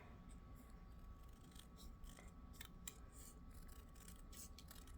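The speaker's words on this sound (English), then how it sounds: "I'm just cutting right along it." Paper snips fussy cut paper with quick soft snipping, several faint close cuts in a quiet craft room, with no talking.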